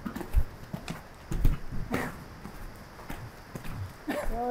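A horse walks during a riding exercise in an arena, its hooves clip-clopping in an irregular, moderately close rhythm, with a few soft knocks and faint background sounds.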